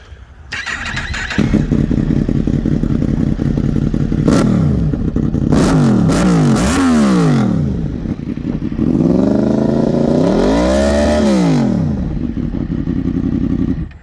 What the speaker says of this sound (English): it's been decatted and it's full system. So I'll let you have a listen.